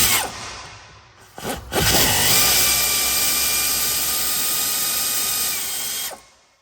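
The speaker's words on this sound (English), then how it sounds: "And the lower bolt uses a 10 millimeter socket." A socket wrench with a 10 millimeter socket turns the lower bolt during a steering repair on a Ford F-150, F-250 or F-350. After a couple of brief clicks, a dense, loud ratcheting runs steadily up close for about four seconds, with no talking.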